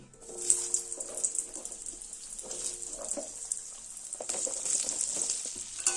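Diced potatoes with turmeric frying in oil in a kadai over a high gas flame give a bright, continuous sizzle, with scraping stirs and small clatters from a spatula running through it. Nobody speaks.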